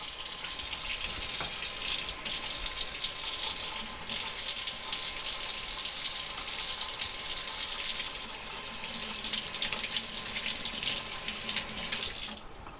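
Tap water runs steadily into a sink while a blender jar used for fermented hot sauce is rinsed out, a close, continuous splashing rush with a few brief dips where the flow shifts or is interrupted, and no voices.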